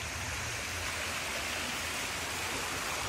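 A garden water feature flows in a continuous, even rush of running water, close and steady, with no voices.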